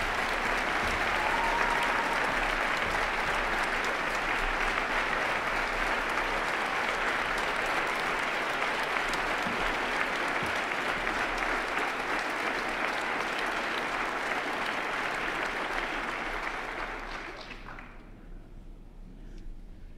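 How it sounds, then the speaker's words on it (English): Audience applause at a State of the City 2018 speech, a sustained, dense wash of clapping from a large crowd holding steady for about sixteen seconds before quickly tapering off. "Let's give him a round of applause."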